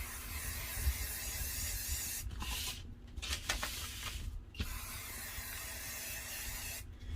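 A steady, close hiss of a Rust-Oleum chalked top coat aerosol spray can, broken by a few brief pauses before the spraying resumes.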